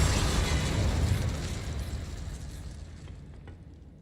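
An Incendio fire spell cast in Hogwarts Legacy, a loud fiery burst up front that roars and slowly fades away over several seconds.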